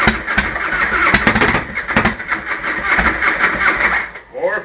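A Harley-Davidson Fatboy V-twin motorcycle, cold, cranks and catches, churning loudly with uneven bursts of engine noise before a sputter near the end; a voice briefly speaks over it.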